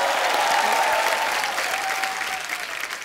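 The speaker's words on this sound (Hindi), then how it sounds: "जोरदार तालियां करण सर के लिए" Studio audience applause on a Hindi comedy show, a dense, even burst of clapping that fills the clip at close range and tapers slightly toward the end.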